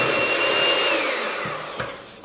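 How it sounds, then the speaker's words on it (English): An electric mixer whisks meringue for a pandan chiffon cake with a loud, steady motor whine that fades and stops near the end, leaving a brief quiet patch, and no one speaks. "Time to get whisking again."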